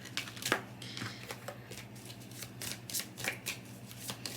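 Oracle cards being shuffled for a reading, heard as a soft, steady riffling and flicking close by, quiet and continuous with no voices over it.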